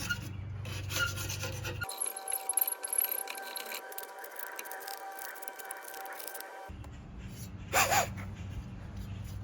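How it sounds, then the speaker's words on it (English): A blade cuts old silicone from the glass of a Morrison Stove Co. sauna stove door, giving close scraping and rasping strokes with faint clinks and a humming background. "Gonna cut off any old silicone."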